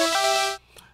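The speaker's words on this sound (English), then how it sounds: "you can set the analog oscillator" Synth tone from the analog oscillator of the Sugar Bytes Obscurium plugin, a bright buzzy sustained note lasting about half a second, then cutting off to near silence.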